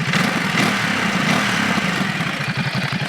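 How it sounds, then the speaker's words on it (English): A 2022 Ducati DesertX motorcycle engine idling through its stock exhaust, a steady low rumble with a slight uneven throb, close and loud, no talking. "let's listen to the stock exhaust"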